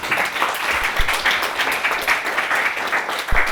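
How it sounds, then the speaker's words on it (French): A municipal council meeting audience applauds after a mayoral and deputy election, with dense, steady clapping from many hands in a room throughout. "On peut vous applaudir encore une fois."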